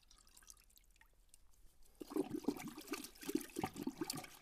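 A liquid car-care product, CarPro ECH2O, is poured into a bucket of water, giving a soft splashing, trickling stream that starts after a near-silent opening and runs steadily to the end.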